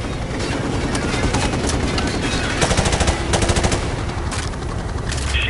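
Heavy gunfire rattles through a military video game combat scene. Dense, continuous bursts of machine-gun fire play loudly throughout, with scattered sharper shots breaking through the steady barrage.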